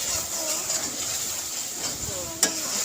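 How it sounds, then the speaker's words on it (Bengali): A spice mix sautés in oil for a Bengali chicken curry, giving a steady close sizzle with stirring scrapes and one sharp clink of a utensil against the pot, while a voice is faintly present. "এখন মশলাটা ভালো করে কষিয়ে নেব।"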